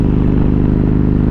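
Kawasaki Vulcan Voyager motorcycle engine running steadily at speed in fifth gear (overdrive), a loud, continuous low harmonic drone with even engine pulsing and no pauses.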